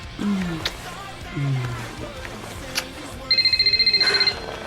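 A mobile phone rings late at night in a dramatized indoor scene, its repeating electronic ringtone pulsing in a steady rapid pattern near the end, after low murmuring sounds.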